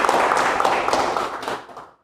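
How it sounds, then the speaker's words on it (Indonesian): A short burst of audience clapping at an Indonesian business-opportunity seminar, a brief crowded round of hands that fades out after about two seconds. "Tepuk tangan buat Anda semua."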